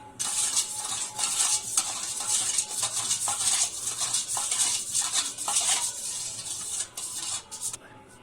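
Flour being mixed by hand with salted water for dough in a village kitchen, a steady close scraping and squelching texture with small irregular bursts, running continuously without pause.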